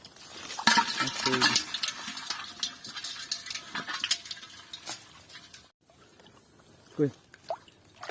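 Crabs collected in the Sundarbans poured out of a container, making a close, busy clatter and patter that fades into scattered knocks, with people talking over it.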